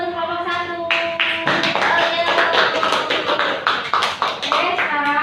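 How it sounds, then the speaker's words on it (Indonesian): Classroom students clapping for a student group, a burst of many hands starting after a brief pause and continuing as scattered, uneven claps close by. "Tepuk tangan dulu buat kelompok 1."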